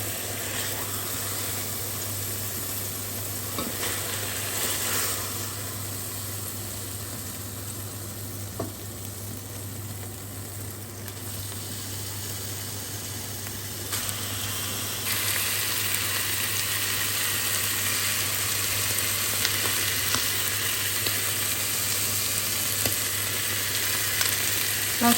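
A steak fries in a hot pan, a dense steady sizzle that swells slightly louder partway through as the meat is turned over, close and continuous with no voices.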